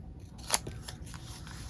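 A single quick snip of scissors cutting paper during desk crafting, one short crisp cut fairly close over a quiet room.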